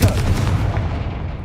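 A Confringo blasting spell detonates in Hogwarts Legacy: one loud, close booming explosion with a sharp onset that rumbles and fades out within a second or so.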